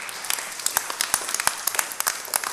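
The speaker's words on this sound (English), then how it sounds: "Give him another applause" Sparse, scattered clapping from a church congregation during a Lent sermon, a handful of separate hand claps spread irregularly across a couple of seconds, moderately close and fairly thin, with no talking.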